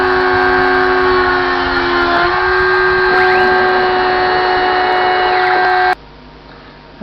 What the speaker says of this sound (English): So now start doing the drilling of the 6 holes.